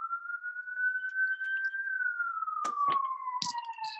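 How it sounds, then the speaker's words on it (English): An ambulance siren wails steadily, slowly rising then falling in pitch, with a few sharp clicks and knocks near the end. "Ambulance."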